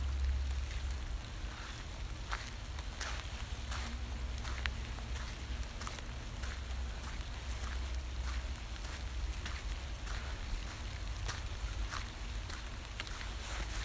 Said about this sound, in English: The rain's kind of picking up.